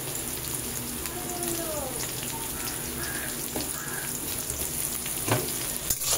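Garlic and slit green chillies frying in hot oil as a tempering for a Bengali pui shak chachra, a steady close crackling sizzle with scattered pops throughout.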